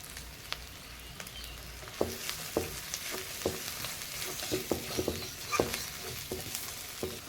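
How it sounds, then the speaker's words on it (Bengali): Turmeric, cumin paste and chilli powder fry in a pan for goat head curry, giving a steady soft sizzle broken by scattered stirring clicks and scrapes; nobody talks. "আমি একটু মশলাটা একটু ভাজা ভাজা হয়ে গেছে"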